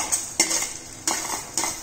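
Dry lentils and fenugreek seeds roasting and being stirred in a pan, with four sharp scraping, clinking strokes of a utensil against the metal at a steady pace, close and moderately loud.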